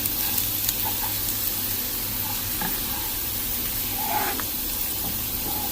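Cumin seeds sizzle steadily in hot oil while being stirred, a continuous close frying hiss broken by soft scrapes and light clinks of the spoon against the pan.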